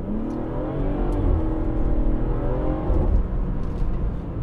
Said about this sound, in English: with a double resonator delete and a downpipe, the car sounds savage